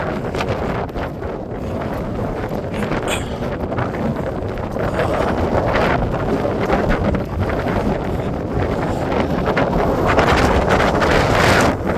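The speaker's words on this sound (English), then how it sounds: "Wind's picked up a bit." Strong wind buffets the microphone on a Yorkshire hilltop, a loud, continuous roaring rumble that gusts and builds steadily with no voices.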